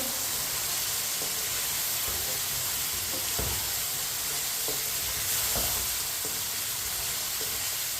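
Carrots and finely chopped potatoes sizzle steadily in a hot pan, with scattered scraping stirs from a spoon throughout; no voices.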